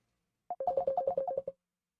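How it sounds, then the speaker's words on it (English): A phone ringtone for an incoming call plays a short, rapid melodic trill of about a second, clear and fairly close, with silence before and after. "I have a phone call."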